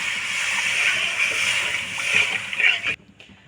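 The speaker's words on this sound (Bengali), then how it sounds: "এখন আমি জল অ্যাড করে দেবো" Water poured into a frying prawn curry masala in a pan, giving a steady hissing sizzle and splashing for about three seconds before stopping abruptly, heard close with no talk.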